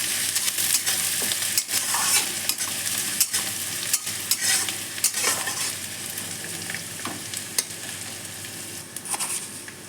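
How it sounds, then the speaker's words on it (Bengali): Onions fry in a hot pan for a potato omelette curry, giving a dense, steady sizzle close to the listener. Repeated scraping and clinks of stirring run throughout, with no talking. "পেঁয়াজগুলো লাল লাল করে ভেজে নেব।"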